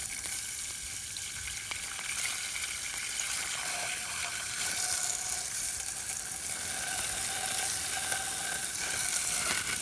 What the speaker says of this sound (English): I'm gonna shoot water in there.